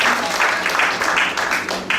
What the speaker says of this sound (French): On peut applaudir Ravi qui a eu l'opportunité de faire ça ce soir